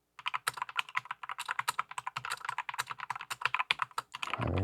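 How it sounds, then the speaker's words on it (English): Rapid, irregular clicking of keys on a computer keyboard during a typing test, close and steady for several seconds, ending in a low rumble. "Typing test, something like that."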